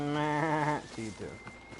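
A goat in Assassin's Creed Odyssey lets out one long, wavering bleat up close, followed by a few shorter, lower bleats or grunts, with no talk over it.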